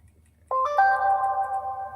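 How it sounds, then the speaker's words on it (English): A chat notification chime during an airsoft show's live stream: a sudden two-tone ding that rings out and sustains cleanly over a low steady hum, loud and alone with no talk. "make sure you turn the notification sounds off"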